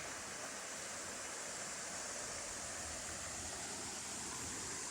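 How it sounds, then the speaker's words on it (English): Chestnut Creek flows along a hiking trail near a resting area, a steady, even rush of moving water heard faintly and continuously, without voices. "Another good view of the Chestnut Creek."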